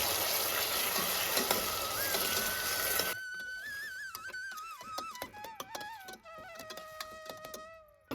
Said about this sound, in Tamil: இப்போது கட் பண்ணி வச்சுருக்கிற தக்காளியை இதில் சேர்த்து வதக்கிக்கணும்